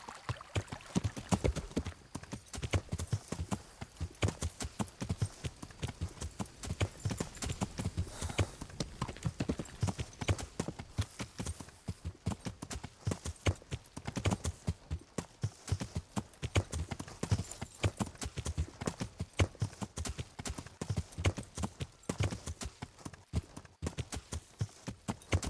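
Horse hooves clip-clopping in the video game Kingdom Come: Deliverance, a steady rapid rhythm of hoofbeats at a brisk gait, fairly quiet and continuous throughout, with occasional faint speech in the background.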